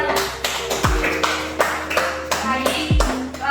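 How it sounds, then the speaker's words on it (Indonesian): Students in a classroom clap together in a short burst of applause, the claps distinct and fairly close, with a brief tapping rhythm and faint voices underneath. "Beri tepuk tangan untuk keduanya."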